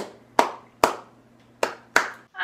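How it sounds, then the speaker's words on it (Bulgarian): Four sharp, separate hand claps, spaced unevenly and fairly close, each ringing briefly into a quiet room with a low steady hum underneath. "Това за мен наистина заслужава малко пляскане."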